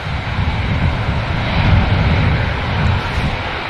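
Airbus A320 airliner at Manchester Airport, a loud continuous jet engine roar with broad low rumble, steady and close throughout.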